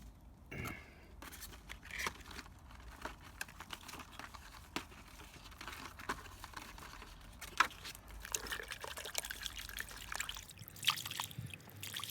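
Water runs and trickles over freshly dug ginger roots as soil is rinsed off, with splashes, crinkling handling noises and scattered sharp clicks throughout, close by and fairly quiet.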